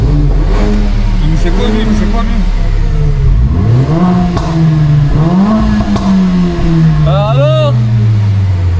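A Mercedes-AMG A35 with a Stage 1 tune revs loudly through rising and falling engine sweeps, close and prominent, while people talk over it.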